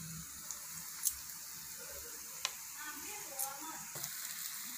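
Stuffed brinjals frying in hot oil make a steady, soft sizzle with a few faint pops and crackles scattered through it.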